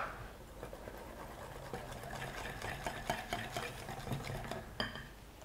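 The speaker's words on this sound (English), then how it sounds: "At this stage I find it easier and quicker to switch to a whisk now." Whisk stirring pancake batter of flour, eggs and milk in a bowl: a steady soft swishing with faint repeated taps of the wires against the bowl, ending in a sharper clink.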